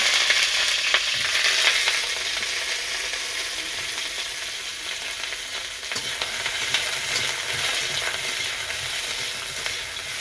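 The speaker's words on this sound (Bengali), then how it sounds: "গরম হয়ে গেছে, ফুলকপিগুলো ভেজে নেব।" Cauliflower pieces fry in hot oil in a pan, a continuous bright sizzle with occasional faint scraping and clinks, close and steady throughout with nobody speaking.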